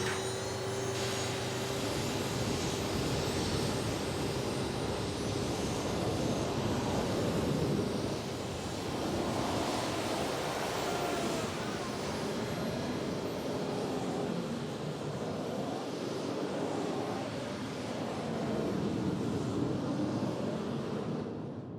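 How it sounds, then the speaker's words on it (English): A tank fitted with MiG-21 fighter jet engines in place of its gun turret roars steadily and loudly, water injected into the jet stream, blasting out an oil well fire in Kuwait; a continuous broad rushing blast throughout. "took off the gun turret and replaced it with jet engines from MiG-21 fighter planes."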